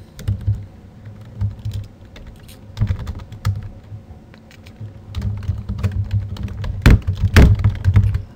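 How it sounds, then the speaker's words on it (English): Typing on a computer keyboard, irregular bursts of close key clicks and thunks with a few louder taps near the end, no voice. "I'll type down here."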